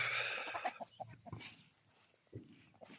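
Free-roaming farm hens cluck in short, scattered bursts, some near and some farther off, with no voices.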